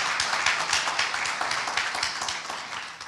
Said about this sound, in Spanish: Démosle un aplauso a la junta administrativa